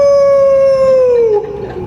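A man imitates a werewolf howling at the moon, a single loud, sustained falsetto howl that slides slowly downward and breaks off near the end, heard alone and close.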